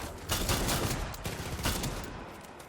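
Rapid bursts of shotgun fire from Far Cry 6 gameplay, several loud blasts in quick succession with a dense, crackling battle texture and no voice.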